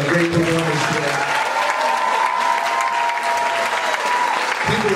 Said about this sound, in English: How about another big round of applause for all these great performers today?